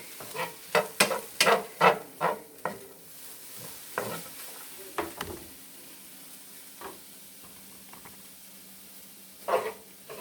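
Mushrooms hit a hot pan for a Philly cheesesteak: quick, loud scrapes and taps of a utensil over crackling sizzle at first, then a quieter steady fry with a few later stirring strokes.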